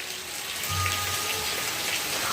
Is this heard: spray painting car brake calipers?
no